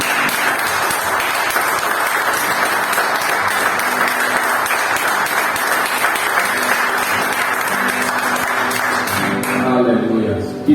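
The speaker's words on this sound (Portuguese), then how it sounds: "que o Senhor receba a nossa melhor salva de palmas" A church congregation applauds steadily and loudly for about ten seconds, the dense clapping fading out at the end as a voice begins to speak.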